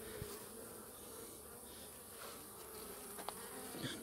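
Honeybees in a queenless hive make a steady, dense buzzing drone heard up close and fairly quiet, with a few faint knocks and shifts over it.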